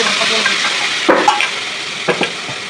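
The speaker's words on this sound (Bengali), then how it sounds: "ওই তেলের ভিতরে মশলাগুলো দিয়ে দিব।" Spices frying in hot oil in a home kitchen pan, a steady loud sizzle with a few sharp scrapes and clinks of a stirring spoon against the pan.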